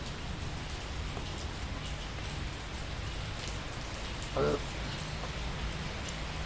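Rain keeps pouring without letup, a dense, even wash of hiss that stays at one level throughout, with one brief louder knock partway through.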